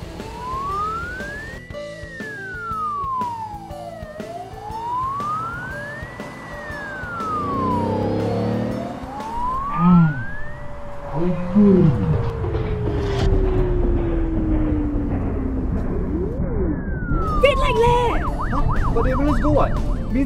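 Emergency ambulance siren wailing in rising and falling sweeps, then shifting to faster yelps, loud and close over steady traffic and road noise, with brief talk.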